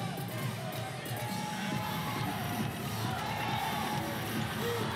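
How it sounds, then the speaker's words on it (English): Basketball crowd at a PBA Philippine Cup 2018 semifinal between NLEX and Magnolia, a dense, steady roar of cheering and shouting filling the arena for the whole span. "Crowd enjoying this duel."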